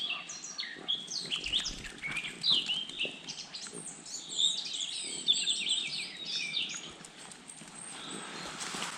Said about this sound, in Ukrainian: А птахи співають.